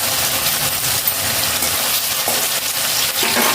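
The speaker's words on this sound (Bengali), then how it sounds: "এবার আমি পনির টুকরোগুলোকে ভেজে নিচ্ছি কড়াতে" Paneer pieces frying in a wok, a loud, close, continuous sizzle with occasional metallic clinks and scrapes as the pieces are turned.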